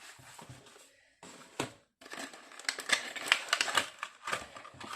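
Box of sealing wax sticks in blue, green and copper being opened for scrapbooking, with rustling, crinkling packaging and light tapping clicks, close and moderately loud, with brief pauses and no speech.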